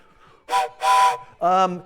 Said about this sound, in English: we'll blow a train whistle for you